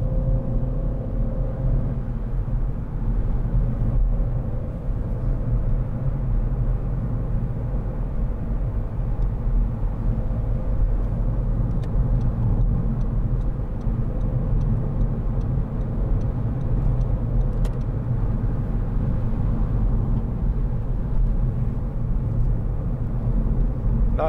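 Cabin rumble of a 2012 SEAT Ibiza 1.4 Sportrider five-door hatchback driving on the road, a steady low engine and tyre drone with faint ticking, continuous and even throughout.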